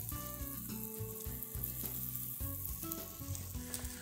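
Grilled cheese sandwich sizzling in butter in a non-stick pan, a steady close crackling fry with light scraping and stirring.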